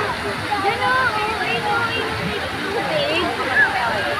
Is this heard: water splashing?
yes